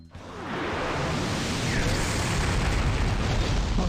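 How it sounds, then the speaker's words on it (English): A spell explosion in the PS2 role-playing game Grandia Xtreme: a sharp onset swells into a loud, sustained roaring blast of dense rumbling noise that holds steady for several seconds with no voices. "A massive explosion will be your ruin!"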